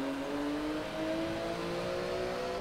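A Porsche race car engine in the video game Forza Motorsport 7 drones at a steady high pitch with a slight rising tone, continuous and moderately loud, with no talk.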